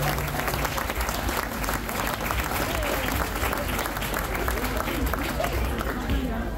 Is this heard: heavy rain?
no